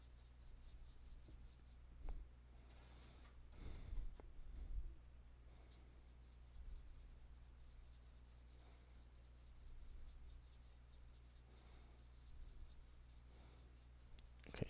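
Charcoal pencil shading over drawing paper to darken and blend a hyperrealistic drawing, a soft steady scratchy rubbing that continues close and quiet, with a few louder strokes partway through.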